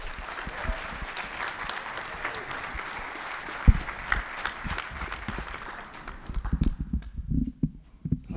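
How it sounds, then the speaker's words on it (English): Sustained applause from a graduation ceremony crowd, dense clapping that gradually thins out, followed by a few scattered claps and some shuffling noise near the end. "So big round of applause."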